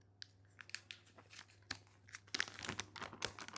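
A clear plastic packet holding fine black powder is pulled open, giving quiet, close crinkling and tearing rustles in irregular bursts that grow busier toward the end.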